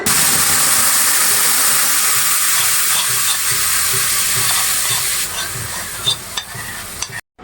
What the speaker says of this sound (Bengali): আর এই তো দেখেন সিমের বিচির পুরো পেস্টটাই দিয়ে দিলাম এখন আমি একটা স্পেচুলার সাহায্যে অনবরত নাড়তে থাকব